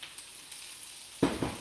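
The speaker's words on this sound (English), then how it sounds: "Ooh, that sizzle." Soft, steady sizzle of garlic and onions frying in hot olive oil, with a brief louder crackle near the end.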